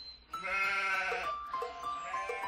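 A cartoon sheep lets out a clear, wavering bleat up close, one long call followed by a shorter trailing one, with no talk over it.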